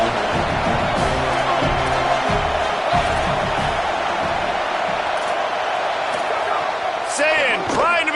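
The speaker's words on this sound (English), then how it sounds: "Decibels rising as the crowd gets behind this defense on 3rd down." Stadium crowd noise building on a 3rd down in the video game CFB 27 Ignite, USC vs Ohio State: a loud sustained roar with whoops and cheers, under a commentator's voice.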